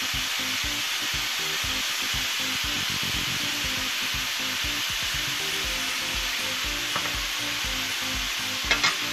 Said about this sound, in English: we got our beef in the skillet